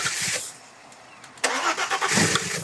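A 2000s-era Audi B5 S4 engine cranks and fires up close by, a short whirring crank followed by a loud catch into a rough, fluttering idle, during a power steering noise repair.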